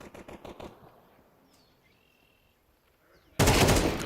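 Rifle fire in the game CS2 during an IEM Dallas match: a quick burst of rapid shots at the start, then quiet game ambience, and a loud blast of sound near the end.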